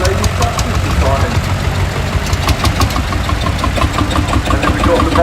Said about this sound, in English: we've got the Marshalls again through there with its iconic sound. That chug, chug, chug.